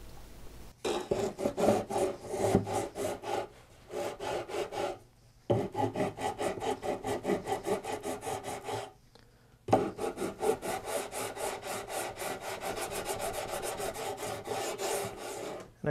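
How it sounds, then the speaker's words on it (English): Plastic fret position marker rods being sanded flush with a guitar fretboard using a radius block, a steady rasping scrape in long back-and-forth strokes with two brief pauses, close and loud, no talk. "we'll just come back in with the radius block and sand those flat."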